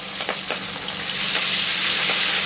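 Soft-flesh fish frying in a pan of hot oil, a dense crackling sizzle that grows louder and fuller partway through, with a few faint taps of a utensil and no talking.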